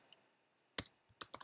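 A computer keyboard typing text onto a chart makes sparse, crisp key clicks: a lone tap, then a short cluster, then a quick burst of several keystrokes in an otherwise quiet room.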